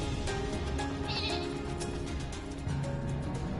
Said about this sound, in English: It is not a fat sheep, it is a sheep.